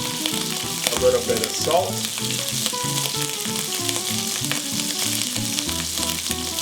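Chicken pieces sizzle steadily in olive oil and butter in a sauté pan, a loud, close, continuous crackle with occasional stirring, while a person briefly speaks over it.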